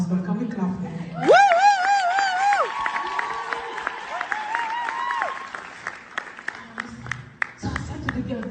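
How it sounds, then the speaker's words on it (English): A church congregation applauds during a Sunday sermon, with scattered clapping and some cheering that mixes with sustained voice-like tones at moderate loudness. "Can we clap for him?"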